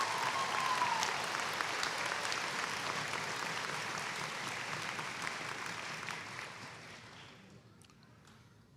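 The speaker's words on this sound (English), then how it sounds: "Please join me as we give them a round of applause." A large crowd at a spring university commencement ceremony giving a sustained round of applause, dense and even, tapering off at the end.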